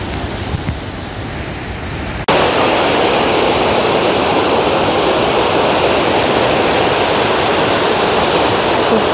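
Dhuandhar waterfall on the Narmada river at Bhedaghat near Jabalpur roars continuously. The sound is muffled for the first two seconds, then bursts into a loud, full, close rush of falling water.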